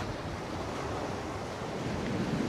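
Steady outdoor wind on the Maltese island of Gozo, roaring and buffeting, with a broad constant rush that may include surf or water noise; no voices.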